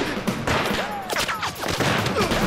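Gunfire crackles through an anti-Japanese war battle scene as a dense fusillade of rapid, overlapping shots mixed with loud battlefield noise, with some shouting faintly underneath.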